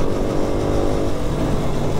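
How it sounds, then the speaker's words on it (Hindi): Motorcycle ridden on a road, with a steady, loud engine drone and wind rumble running throughout, including a slight rise in revs, close to the rider. "यार मेरे को बाइक बड़ी डिसबैलेंस सी चल रही है"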